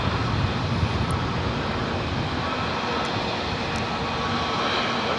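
A JetBlue Airways Airbus A320 gives off a steady, broad jet engine roar at LAX airport. The sound is loud and continuous throughout, with no talk over it.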